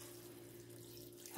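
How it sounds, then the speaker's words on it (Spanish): Water pouring steadily from a tap into a pot of vegetables, a soft continuous faint stream with a brief louder splash at the end. "Y vamos a cubrir de agua. Vamos a echarle agua"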